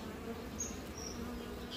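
Honey bees buzz steadily at an old colony's hive, a low continuous drone with a few individual bees passing close by, fairly quiet and without speech.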